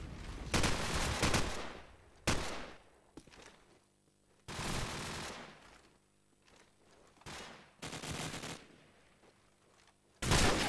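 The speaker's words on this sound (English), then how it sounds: "And I hear an M14." M14 rifle gunfire in Call of Duty 4 during a competitive cup match: several loud bursts of shots with quieter gaps between them, no talk over them.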